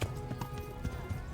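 Hooves clip-clop in a quick, uneven rhythm as a horse runs in the medieval role-playing game Kingdom Come: Deliverance, fairly soft and brief.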